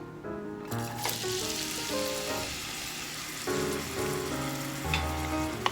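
Onions frying in a little oil in a pan, a steady close sizzle that rises sharply at the start and continues evenly, with background music over it and no talking.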